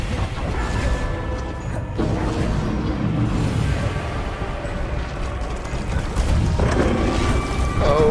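Blast of the Confringo explosive spell in the Hogwarts Legacy video game: continuous heavy booming and crashing with mechanical clatter, loud and dense throughout, swelling again near the end.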